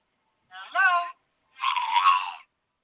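A recorded orca producing speech-like vocalizations in imitation of human talk, two distinct tonal, warbling calls separated by a short pause, fairly clear and close with no other voices over them.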